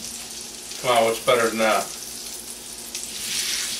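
Pan-roasted pork chops sizzling in a hot pan, a steady crackling hiss under a man's brief spoken remark.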